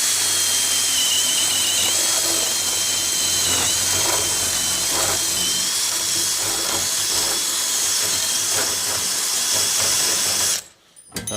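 A power drill whines continuously at close range with a high steady hiss, the tone shifting slightly as it bites, then cuts off abruptly near the end.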